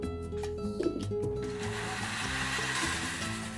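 A mixer grinder blends chopped mangoes with milk, starting with a few knocks and then settling into a steady, loud whirring grind.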